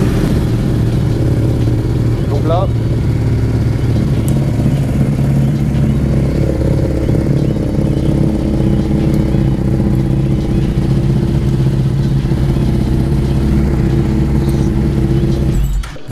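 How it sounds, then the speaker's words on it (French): Motorcycle engine started for a maintenance check, settling into a loud, steady idle with a constant rumbling hum for most of the stretch before cutting off at the end; someone speaks briefly near the start. "quand vous démarrez la moto"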